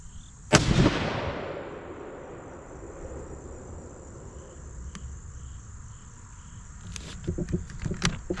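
A deer rifle fires a single loud, sharp outdoor shot while being sighted in, and the report rolls away over steady cricket chirping. A few light clicks and knocks follow near the end.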